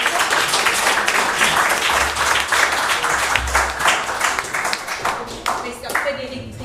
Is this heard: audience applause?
yes